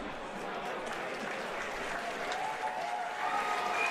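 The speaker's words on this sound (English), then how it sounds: "All right, guys, huge round of applause." Crowd applause at a Muay Thai title fight event as judges reach a decision, steady and dense clapping with cheering throughout, a raised voice briefly audible over the noise.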